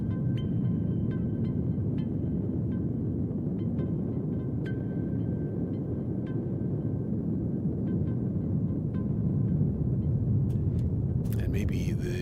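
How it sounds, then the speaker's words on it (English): A Eurorack modular synthesizer makes a dense low rumbling drone with scattered short high blips and bleeps chirping throughout, ending in a brief burst of bright glitchy noise. "when this thing starts to spaz out, and it makes tons of little fishy noises,"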